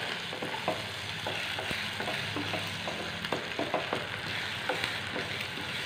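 Beaten egg sizzles and fries in a pan with onion for a wheat-flour and egg snack, a steady close crackle broken by soft clicks of a spatula stirring; no voices.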